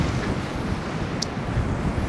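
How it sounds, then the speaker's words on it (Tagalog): Strong, cold morning wind on a trip through the north of the Philippines roars steadily and buffets the microphone in a continuous low rumble, with no talk. "Grabe yung hangin."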